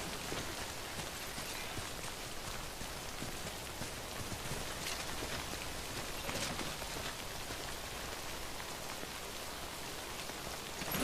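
Steady, dense rain pours down in the video game Death Stranding, a constant hiss of drops hitting surfaces that stays even and unbroken throughout, with no voices.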